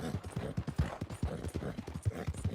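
Hooves of a Tobiano American Paint horse clip-clopping at a steady quick rhythm in Red Dead Redemption, a continuous gait of close, distinct thuds.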